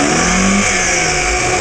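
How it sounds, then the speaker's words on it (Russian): A Lada Niva's engine revs hard and loud up close as the car rocks back and forth trying to free itself from getting stuck. "Нива сейчас сможет выйти путем раскачки"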